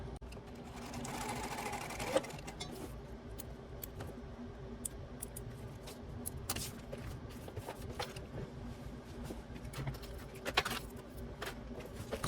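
A sewing machine runs a decorative 1/8 inch seam along a small fabric wallet. The motor whirs steadily and close by, with light ticking and clicking throughout.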